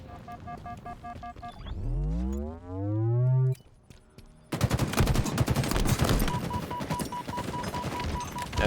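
Halo match in a corporate esports tournament, with a burst of game effects, a rising whoosh, then dense rapid gunfire and explosive crackle that stays loud and close through the second half.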